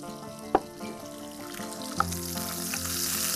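Chopped ginger fries in a pan with a soft, steady sizzle that builds slightly, punctuated by two brief utensil taps, with a faint hum in the background.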